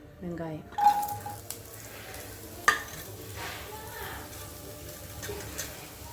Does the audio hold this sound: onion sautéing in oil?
yes